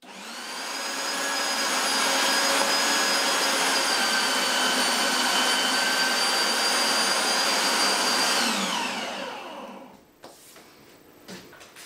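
A meat mincer grinds pork for Swedish meatballs with a steady motor whine for about eight seconds, then winds down and stops, leaving a few soft clicks and handling noises.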